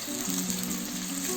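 One medium onion, sliced, sizzles in two tablespoons of oil in a pan, a steady close frying hiss with no voices over it.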